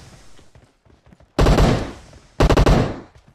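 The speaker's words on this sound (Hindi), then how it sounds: "हाँ गोलियां निकली इसमें से तो, ज़ॉम्बी मोड में।" Bursts of rapid automatic gunfire from a gun in a zombie-mode video game, two loud sustained volleys about a second apart, the second chopped into fast individual shots, with quieter game sounds between them.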